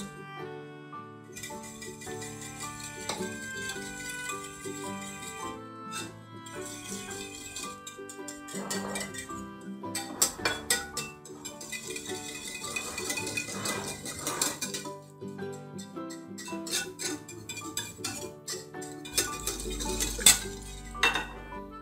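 A utensil stirs a boiled potato filling with parsley and dill in a bowl, producing repeated light clinks and scrapes against the dish, close and fairly quiet, over background music.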